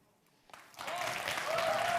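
Audience applause at a developer conference's lightning talks, starting out of near-silence and swelling into a steady, dense round of clapping.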